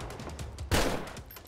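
Gunfire in a modded video game: a burst of rough, crackling shots with one loud blast near the middle, heard close over a noisy game backdrop, without talk.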